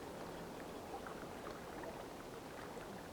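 Faint, steady harbour water ambience, a soft continuous wash of lapping water with no distinct events and no voices.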